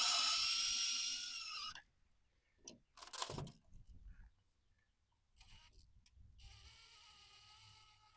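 Screws are driven to fasten an old work box into a wall, heard as two close whirring bursts at the start and end with quiet handling noises in between.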